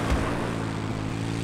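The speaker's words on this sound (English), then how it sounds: "Enemy helicopter, east of your current position." An enemy helicopter in the video game Battlefield 4 gives off a loud, steady drone of engine and rotor that holds unbroken for the whole moment.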